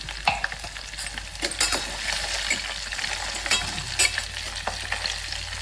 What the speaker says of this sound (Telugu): ఇప్పుడు ఎండు మిరపకాయలు వేస్తున్నాం